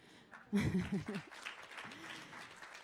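Brief applause from an audience for Gadeer Kamal-Mreeh, the first Druze woman in the Knesset, soft and diffuse, following a short spoken phrase and trailing off quietly.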